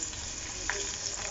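Steady sizzling and crackling of frying in hot oil, close and continuous, with a faint stir partway through and no voices.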